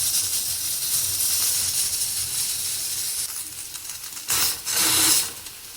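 A small pressure cooker releasing steam gives off a constant broadband hiss, then two louder, rougher bursts of venting near the end.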